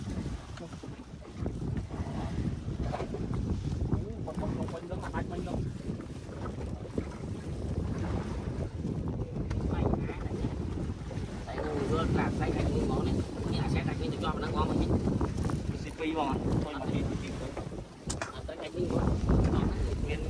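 Strong wind buffets a fishing boat at sea off Koh Sdach while out after cobia, a loud constant rumbling roar that lasts throughout as people talk over it.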